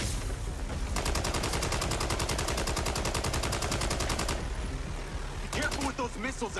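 Rapid automatic gunfire from a video game, a sustained burst of evenly spaced shots lasting several seconds, then a pause and a shorter second burst, loud and close.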